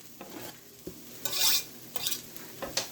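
Garlic stirred into sautéed mushrooms and onions in a pan, giving soft sizzling with intermittent scraping strokes of the utensil, quiet and close with no talking.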